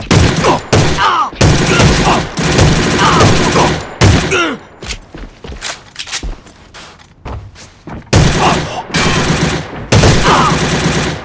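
PMX gun firing in the Korean-server A.V.A shooter game, loud rapid bursts of automatic fire broken by short pauses, with quieter single shots and game sounds in the gaps.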